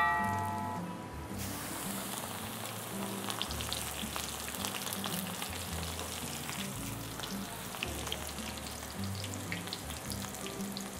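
Coriander frying in hot oil, a dense, constant sizzle and crackle filling the whole stretch, close and loud, with no voices.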